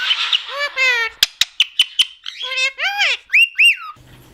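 Parrots at a parrot sanctuary call close by and loudly: rising whistles, harsh squawks and a quick run of sharp chirps in rapid succession, alone without talk.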